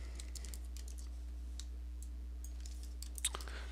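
Typing on a computer keyboard while entering numbers into an Excel spreadsheet, a few quiet scattered key clicks over a steady low electrical hum.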